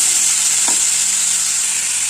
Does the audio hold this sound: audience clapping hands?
no